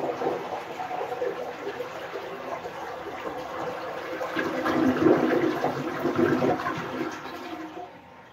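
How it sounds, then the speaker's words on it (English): A household toilet flushes in a single long rush of water, swelling to a louder gush midway before draining and tapering off as the tank refills, close by with no talking. "And time to flush."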